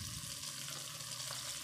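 Moringa drumstick curry frying in a pan with prepared masala, giving a steady, even sizzle with a watery hiss that holds constant throughout, no voices present.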